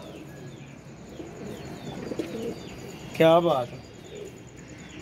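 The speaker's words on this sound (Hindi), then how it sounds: "इसके साथ कबूतर आ गया माशाल्लाह" Pigeons coo close by, with a louder burst of cooing partway through, while a person briefly speaks over faint background chirps.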